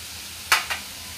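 Tomato and spices for chicken kheema sautéing in a pan give two brief sizzling hisses over low steady background noise, close and moderately loud, with no talking.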